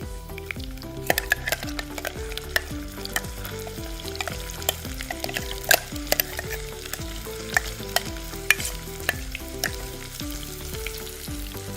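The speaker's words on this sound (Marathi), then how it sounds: "आपलं तेल आता इथे तापलं आहे आता आपण यामध्ये घालूया कढीपत्ता" Seven or eight curry leaves and a ground masala paste frying in hot oil, dense popping and spattering sizzle with frequent sharp crackles and stirring scrapes, close and loud throughout.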